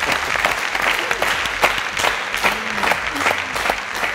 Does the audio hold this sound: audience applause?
yes